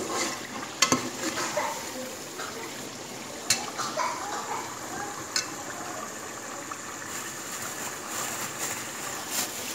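Mutton pieces cooking in a pot for aloo gosht salan, giving a steady low sizzle and bubble with a few sharp scrapes or clinks of a spoon against the pot, close by and without talk.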